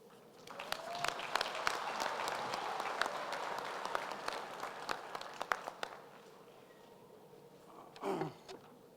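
Audience applause at a university winter graduation ceremony, a dense steady clatter of many hands filling a hall for about six seconds before thinning into scattered claps and a brief rustle near the end.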